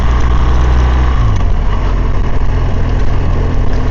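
A motorcycle engine drones loudly and steadily while riding through Painesville, Ohio, with a deep low rumble and a slight shift in pitch about a second in as a gear is chosen for a hill.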